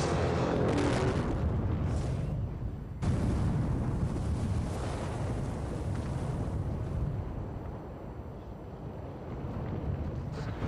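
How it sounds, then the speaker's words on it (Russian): A quarry blast at a diamond mine: a deep, roaring blast rumbles out and sustains, with a second heavy surge a few seconds in, then a long fading rumble of falling debris. "Вот пора взрывать."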